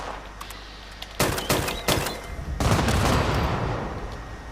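Gunfire in the Fallout 76 video game, a few sharp loud shots in quick succession followed by a sustained burst of rapid fire, with no talking.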